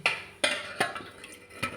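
Four quick metallic clinks as a spoon taps against a pan while tempering (vaghar) is spooned over Gujarati khaman dhokla, evenly spaced and close.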